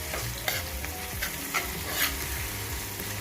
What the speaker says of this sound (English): I'm going to add the corned beef to it and just incorporate the corned beef with the seasoning that I have